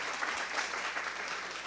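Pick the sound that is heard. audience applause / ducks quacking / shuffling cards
audience applause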